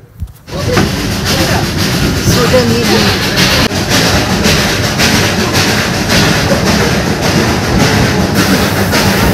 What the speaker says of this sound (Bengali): দ্বিতীয় নম্বরে থাকছে দার্জিলিং হিমালয়ান রেলওয়ে, বা যাকে আমরা টয় ট্রেনও বলে থাকি।